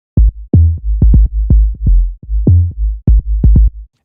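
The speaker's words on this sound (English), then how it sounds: "So the fifth styled bass is going to be that knock styled bass" A knock-style tech house bass synthesized in Serum plays short, punchy low notes in a choppy, kick-like rhythm, loud and dry with nothing else heard.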